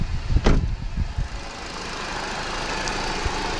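A Chevy Cruze engine idles after a spark plug replacement, a steady low mechanical rumble with a few louder knocks and clatters at the start before settling into an even idle.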